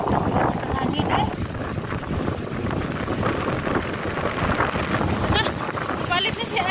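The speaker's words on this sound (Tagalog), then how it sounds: "Hangin eh." Strong wind blowing outdoors on a blustery day while mangoes are gathered, roaring loudly and continuously against the microphone, with people talking under it.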